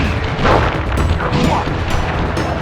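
A firework attack in Sly Cooper and the Thievius Raccoonus (PS3, The Sly Collection) gives a dense, continuous roar of booming blasts, loud and close, with crackling bursts throughout.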